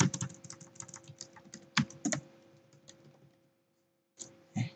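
Typing on a computer keyboard to enter a chart axis title in a computer lab, a quick run of close, crisp key clicks with short pauses, then a final few taps after a brief silence.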